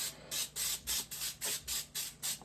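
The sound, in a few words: Pam cooking spray sprayed onto a baking pan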